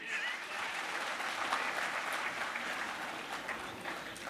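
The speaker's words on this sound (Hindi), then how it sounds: "जो इस बात से सहमत है एक बार ताली बजाइए।" Steady applause from a large audience at a national convention of Indian military veterans, dense and sustained throughout without speech on top.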